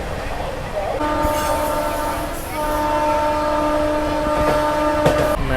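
A train runs through Ghaziabad railway station in India, with a loud steady rumble, a long sustained horn blaring over it, and dense clattering noise throughout; no speech is clear.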